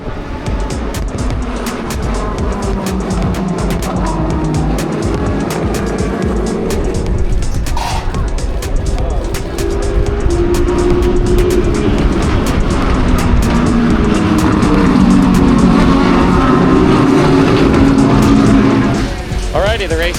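Race cars roaring around the circuit at the 12 Hours of Sebring IMSA endurance race, a continuous loud engine wail with cars passing and shifting, steady throughout with the track din filling everything.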